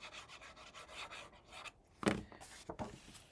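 Glued paper tab in a handmade mini album being burnished, quiet close rubbing and scraping strokes followed by a few sharper scuffs and taps.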